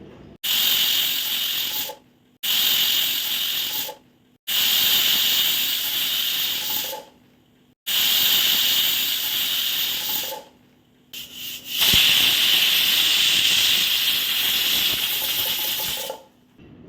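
A pressure cooker with chickpeas inside lets out a series of loud, piercing steam whistles, five long hissing blasts separated by brief silences, close up.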